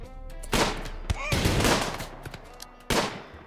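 Short bursts of SMG fire in RimWorld combat, with two loud volleys separated by quieter crackling game sounds, heard close and without talk.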